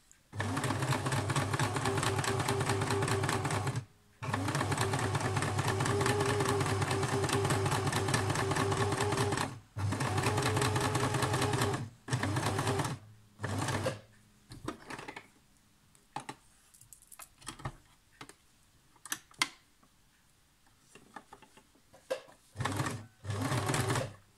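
A sewing machine stitches fabric for reusable cloth wipes, running in long steady rapid-needle bursts with short pauses where the cloth is turned, then shorter stop-start runs and clicks toward the end.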